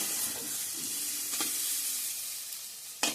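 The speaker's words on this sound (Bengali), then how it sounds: "আলু ভাজাটা হয়ে গেছে এখানে পেঁয়াজ রসুন দিয়ে দিছি কাঁচা লঙ্কা" Onion, garlic and green chili frying with potatoes in a pan, a soft steady sizzle with a few stirring scrapes and a sharper clink near the end, no talking.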